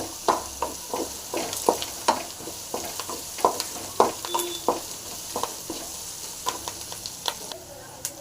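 Dried red chillies and curry leaves fry in a pan, a soft sizzle broken by frequent quick scrapes and taps of a spatula in an uneven rhythm, fairly close and moderately quiet.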